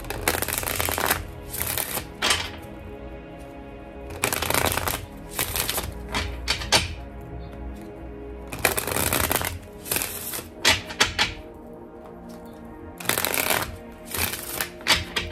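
A deck of chakra cards is shuffled by hand in repeated crisp riffling bursts, each a second or two long, separated by short pauses, close and clear with no speech.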